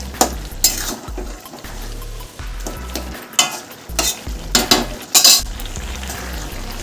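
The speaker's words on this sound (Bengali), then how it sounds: "এবার গ্যাসটা বাড়িয়ে দিলাম, দিয়ে এটাকে এবার খোলাভাবে রান্না করব।" Spinach and vegetable curry bubbling uncovered in a pan over high heat, a steady loud sizzle and simmer broken by repeated scraping stirs and metal utensil clinks against the pot.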